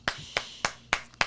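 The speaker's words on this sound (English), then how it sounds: "My own hand clap." Five sharp, close hand claps in a steady slow rhythm, each crisp and alone with no talk.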